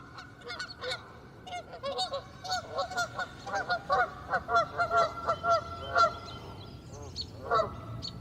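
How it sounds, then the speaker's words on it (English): Geese honk repeatedly from moderately far off as they fly into a pond, a busy chorus of calls over faint outdoor background noise. "Geese coming in right now in the pond, actually."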